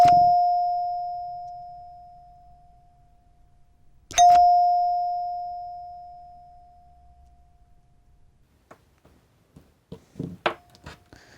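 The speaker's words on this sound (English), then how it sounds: "We get the rear chime." A rear door chime powered by a 9V battery strikes two clear bell tones a few seconds apart, each ringing out and slowly fading, followed by faint clicks and handling noises.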